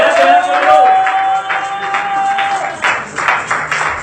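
Church congregation applauding and cheering together, a steady wash of clapping under a voice speaking over it.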